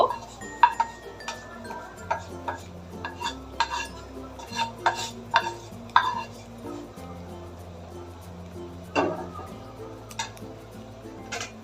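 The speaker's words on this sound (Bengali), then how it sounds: "এখন যেখানে আমি মাংস রান্না করেছি সেই কড়াইয়ের মধ্যে আমি আমার এই ফোড়নটি ঢেলে দেব।" Spice tempering poured into a pot of cooked meat with red chillies, then stirred, heard as repeated clinks and scrapes of a spoon against the pot at an uneven rhythm, close and fairly loud.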